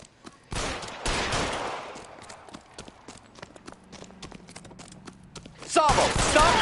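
Gunfire during a tense standoff in the video game L.A. Noire, a sharp burst of shots, then scattered clattering impacts and another loud volley at the end, with no voices in between.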